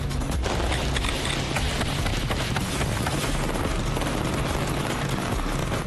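Pyrotechnic fireworks fired on cue from a roof make a dense, loud burst of rapid crackling reports that runs continuously for several seconds.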